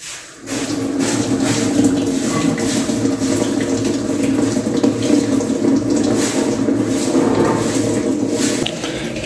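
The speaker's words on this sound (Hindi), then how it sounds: "इसने पानी लेना स्टार्ट कर दिया है" Water pours steadily into the tub of an automatic washing machine, a continuous close rushing fill that runs unbroken for several seconds without any talk.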